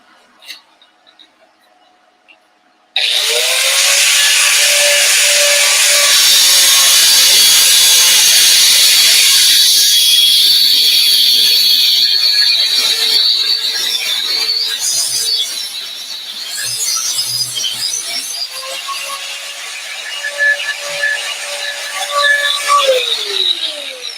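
Power tool cutting a workpiece clamped in a vise, a loud continuous whine that starts abruptly after a quiet opening, its pitch sagging and recovering as the blade bites, running steadily to the end.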